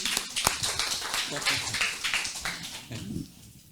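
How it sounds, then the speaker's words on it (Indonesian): Applause from an audience at an agricultural training session, a dense patter of clapping with a sharp clap near the start that thins out toward the end. "Tepuk tangan."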